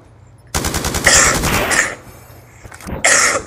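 Rapid, loud rifle fire in Black Ops 2 Gun Game on the Standoff map, with a fast burst of close cracking shots followed by a couple of further sharp blasts after a brief pause.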